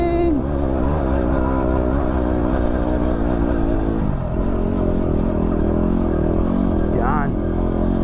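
A Yamaha WR250R motorcycle cruises across a Simpson Desert clay pan in fourth or fifth gear, its engine a steady, loud close drone with slight pitch shifts under wind rush.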